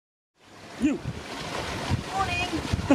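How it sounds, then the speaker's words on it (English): Strong wind buffets the microphone over the wash of waves aboard a sailboat off Turkey, loud and steady, while a person talks. "It's quite windy, you might not be able to hear me very well."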